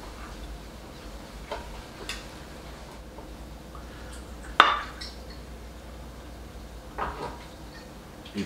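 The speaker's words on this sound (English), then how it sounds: "I'm gonna start cutting my pork tenderloin" Knife cutting a glazed pork tenderloin on a board, giving a few faint scattered taps and one sharper clink midway against a quiet kitchen background.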